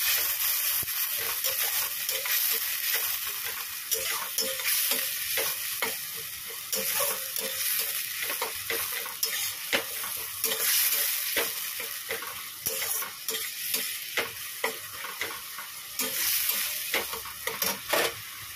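Ginger-garlic paste sizzles and fries in a pan after a splash of water, with steady crackling and the repeated scrape of stirring throughout, no talking.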